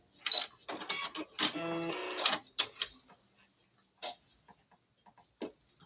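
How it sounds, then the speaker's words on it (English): Home sewing machine running in quick stitching bursts, a steady mechanical whir with rhythmic ticking, loud and close, then stopping and giving way to scattered small clicks and handling noises. "I must need to clean my sewing machine out."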